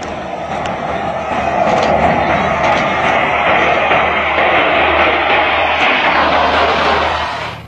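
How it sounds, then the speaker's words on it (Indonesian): Engines of Chinese nuclear bomber aircraft roar loudly and steadily, a broad sustained rumble close by that holds for several seconds before easing slightly at the end, with no talk over it. "18 pesawat pengebom nuklir Cina serbu zona pertahanan Indonesia."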